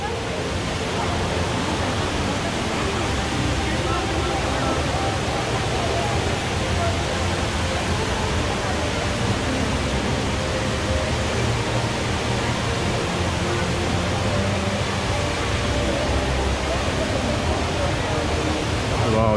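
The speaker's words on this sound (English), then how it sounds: "There's a waterfall." Indoor waterfall at Jewel Changi Airport, a steady, loud broadband rush of falling water filling the whole stretch without pause, with crowd murmur and voices mixed faintly underneath.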